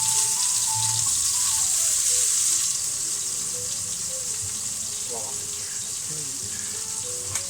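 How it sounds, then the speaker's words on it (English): Chopped onion drops into a hot pan for Hong Kong style sweet and sour chicken, giving a steady loud sizzle that hisses on and softens slightly as it settles, with faint kitchen clatter. "now we've got that first onion in, that's going to really start taking the temperature of that pan down"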